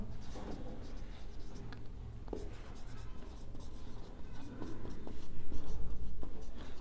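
A pen scratches out an accounting entry on paper in a classroom-style lesson, making continuous close scratching strokes over a low background hum.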